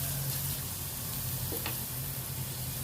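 Crushed ginger, garlic and green chillies sauté in a pan for a Kerala-style mackerel curry. A constant close crackling sizzle holds throughout, with one brief sharp clink of a utensil midway and no speech.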